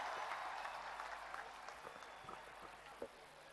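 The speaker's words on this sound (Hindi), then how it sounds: "जोरदार तालियां।" An audience claps through a steady, distant wash of applause at a ceremony honouring Olympic medalists in Lucknow. The sound stays fairly faint and even for several seconds, with occasional louder claps near the end.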